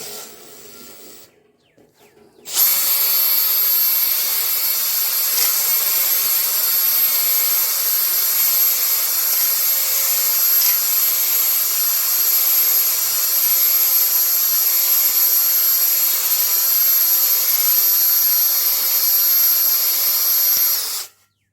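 A cylinder hone works the bore of a 350 engine block, giving a steady, loud, high whirring grind that starts abruptly and runs without a break for about eighteen seconds before cutting off. A faint clatter comes just before it starts.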